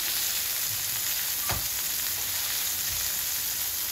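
Chicken fries in a pan for burgers, a steady, close, hissing sizzle that carries on without a break, with one sharp click partway through and no talk.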